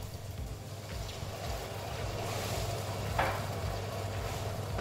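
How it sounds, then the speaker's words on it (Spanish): Vegetables sautéing in a pan with white wine and paprika while the wine reduces, giving a continuous close sizzle and bubbling hiss over a low background hum, with no voices. "y a seguir pochando y a reducir el vino"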